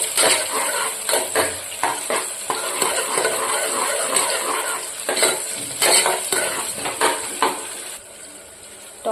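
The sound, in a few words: tomato cooking in pan for chicken masala gravy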